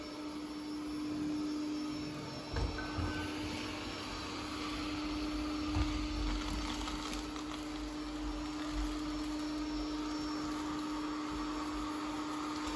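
A Bissell SpinWave robot vacuum and mop runs across a floor with its bristles sweeping. It gives a steady, moderately loud motor whir and hum with faint brushing clatter, and no voices are heard.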